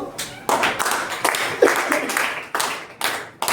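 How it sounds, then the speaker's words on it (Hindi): A classroom of students claps together in loud, ragged bursts that start and stop several times, close and lively, with a few voices mixed in. "एक मरतबा ज़ोरदार ताली बजा दो।"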